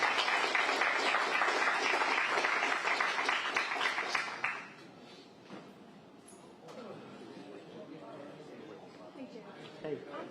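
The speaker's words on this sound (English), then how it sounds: "If we could give Jeff another round of applause." An audience at a press club event applauds for Jeff Reynolds of the Louisiana Rural Hospital Coalition, a dense burst of clapping that dies away after about four seconds into quieter room chatter.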